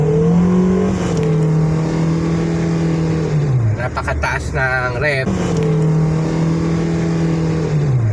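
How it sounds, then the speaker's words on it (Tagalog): A car engine with a worn, slipping clutch revs high during an uphill test drive while the car barely gains speed, giving a loud, steady, droning hum that dips briefly midway before settling back. "napakataas ng rev, pero yung takbo ganun lang"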